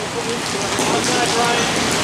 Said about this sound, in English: that rain's really coming down